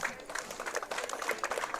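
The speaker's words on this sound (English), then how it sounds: "Gets a round of applause from the fans here at the stadium." Fans clap in a round of applause at a softball stadium during a game, a steady crowd patter of many hands that carries evenly throughout.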